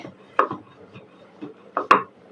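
Jackfruit seeds are ground on a grinding stone for a mash, and several distinct scraping, knocking strokes come at an uneven pace, fairly quiet and close.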